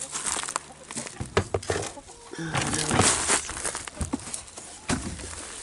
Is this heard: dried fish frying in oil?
no